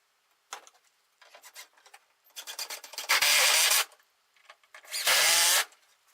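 A power drill drives deck screws into wood for a small DIY cold frame greenhouse, with a few short whirring bursts and then two long, loud, close grinding runs separated by a pause.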